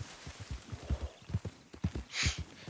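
Horse hooves clip-clopping in Red Dead Redemption 2, a steady walking rhythm of close, distinct hoof strikes, with a brief soft snort near the end.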